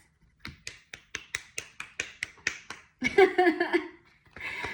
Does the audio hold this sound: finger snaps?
yes